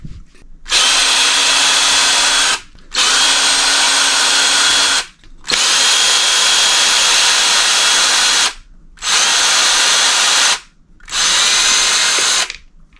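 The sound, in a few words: power drill undoing screws on an RC truck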